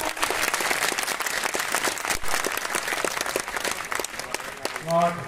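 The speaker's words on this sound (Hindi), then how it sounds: "सुनाती हूँ तुम्हें, तुम तालियों का साज दे देना" Audience applause at a Hindi poetry recital, a dense patter of clapping running throughout at moderate level, with a voice or tonal sound briefly rising near the end.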